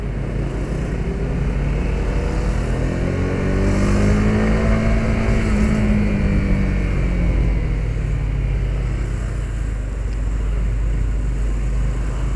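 A 2021 Honda CBR150R motorcycle engine on a test ride hums steadily at low revs, its pitch swelling slightly mid-ride and settling again, mixed with constant road and wind rush, no talking.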